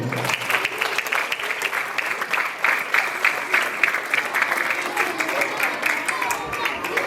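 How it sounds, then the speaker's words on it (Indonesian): Schoolchildren applaud their teachers at an end-of-year school performance, a dense, steady burst of many small hands clapping continuously throughout, with the crowd noise close and lively. "tepuk tangan dulu buat Bapak Ibu Guru"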